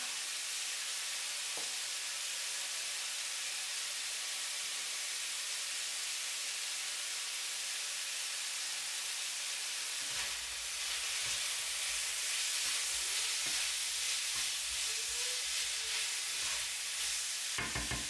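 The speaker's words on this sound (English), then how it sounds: "The meat is sautéed just right." Meat sautéing in a pan for baked cheesy potatoes gives a steady, quiet hiss of sizzling that grows a little denser partway through, with faint stirring scrapes and no talk.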